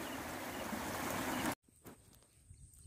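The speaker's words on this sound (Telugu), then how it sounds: "చూడండి ఫ్రెండ్స్, ఇదే వాగు" A small rural stream flows with a steady close rushing wash for about a second and a half, then cuts off abruptly to faint, scattered outdoor sounds.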